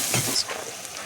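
Chopped onion frying in a pan while being cooked down to a deep red for a mixed dal and spinach dish, giving a brief, steady sizzle with a few soft stirring scrapes.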